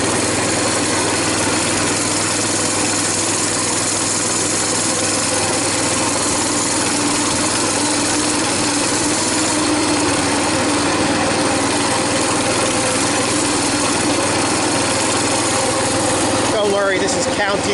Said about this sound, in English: I'm barely cracking the throttle and I'm rolling with ease.